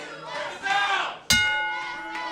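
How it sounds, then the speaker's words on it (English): A wrestling ring bell at a hometown hero's match rings once with a sharp metallic clang, its tone ringing on over loud, rowdy crowd cheering. "And there the bell sounds"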